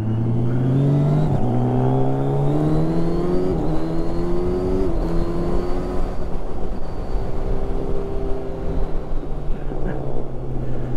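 A Suzuki GSX650F motorcycle with a full Delkevic decat exhaust roars loudly while being ridden, its engine pitch rising and falling through gear changes in a continuous, close, aggressive drone.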